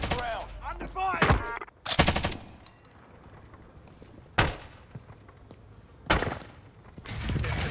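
Bursts of automatic gunfire ring out in Call of Duty Warzone on Alcatraz, several sharp loud volleys separated by quieter gaps, with a brief radio-style voice between them.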